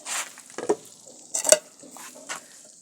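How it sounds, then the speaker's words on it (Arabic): Onion and garlic frying in oil in a tagine make a light, close crackle, broken up by short sharp bursts of spattering and stirring clatter at uneven intervals. "وفي هنا درت الزيت ومليحه والبصله والثومه"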